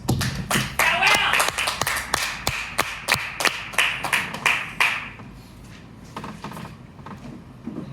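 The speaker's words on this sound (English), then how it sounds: "Another round of applause for Will, guys." Scattered audience clapping at a music and comedy open mic in a brewhouse, loud at first and thinning into a few sparse claps before fading under room murmur.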